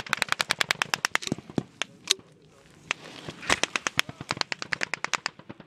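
Gunfire in a US troops versus Taliban firefight, 2019: rapid, sharp bursts of automatic shots crack out in quick succession, loud and fairly close, with a brief lull in the middle.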